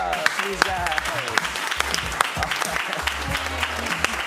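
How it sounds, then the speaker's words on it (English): An audience at a Saturday night game-show style event breaks into a round of applause, busy clapping mixed with cheers and talking voices, loud and continuous throughout with sharp individual claps standing out. "Yeah, round of applause."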